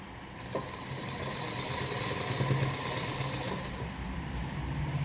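A sewing machine stitches cloth along the right side of a ponche trouser hem, giving a faint, steady mechanical whirr with a low hum throughout and no speech.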